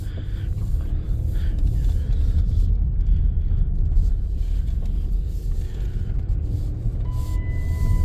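A 2008 Dodge Grand Caravan SE with over 445,000 miles backing up in reverse, its low engine and road rumble steady and fairly loud throughout, with no speech.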